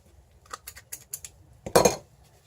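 A scoop working through ginger crackle cookie dough, giving a few light metallic clicks and scrapes followed by one louder, close scraping clunk, with no talking.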